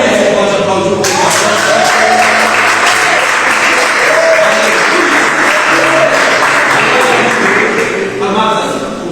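Loud, sustained applause from a large church congregation fills the space, steady throughout, with voices faintly mixed in underneath.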